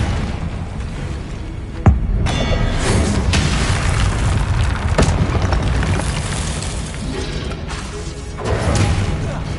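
A Confringo fire spell exploding in a Hogwarts Legacy battle, with a sharp boom followed by rumbling blasts and mechanical clatter, loud and continuous with a later swell.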